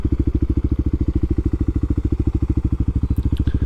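A Kawasaki KLX300 motorcycle engine thumps steadily in a fast, even single-cylinder rhythm, loud and close throughout while the rider pulls in to park, with no talk over it.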